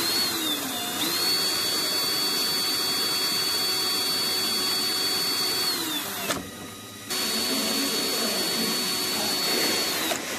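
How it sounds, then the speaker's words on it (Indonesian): An electric drill spins a rubber roller while it is shaped with a file, giving a loud steady whine with a high tone that ramps up, holds, cuts out briefly near the middle, then resumes. "kalau pakai bor ini saya senangnya menggunakan kikir ini pun juga enak"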